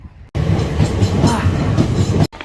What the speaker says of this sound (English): This is the first train of the night.